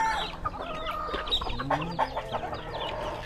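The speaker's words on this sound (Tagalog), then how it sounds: "Ano mga manok to? Native po." Native chickens cluck and chatter busily up close, several birds overlapping in short bursts against steady outdoor background noise.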